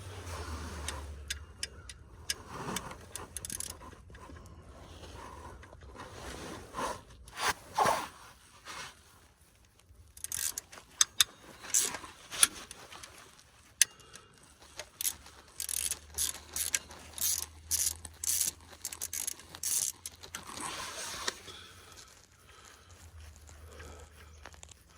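A ratchet wrench works on a bolt during water pump replacement on a Dodge Ram 1500: bursts of rapid ratcheting clicks close up, with pauses and clanks between, and a low hum underneath.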